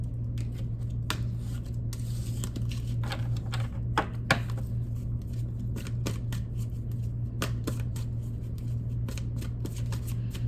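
Tarot cards are shuffled by hand, a steady run of soft riffling and flicking at close range, with quiet pauses between bursts and no talk.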